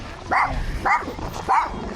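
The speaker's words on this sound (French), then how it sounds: "Ouh, les petits chiens de garde." Three short barks from small guard dogs at a rural Vietnamese coffee-drying yard, evenly spaced about half a second apart, moderately close over a low outdoor background rumble.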